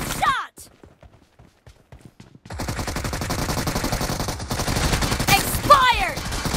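Rapid bursts of gunfire from a PUBG Mobile team match, a quiet gap giving way to dense, sustained automatic fire with sharp shots near the end, while game voices call out over it.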